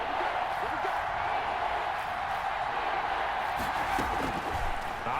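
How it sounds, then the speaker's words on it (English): A football crowd at a Washington vs Titans game cheers and murmurs in a continuous, distant roar ahead of a big third down, with faint voices mixed in. "the crowd getting into it as we come up on a big 3rd down"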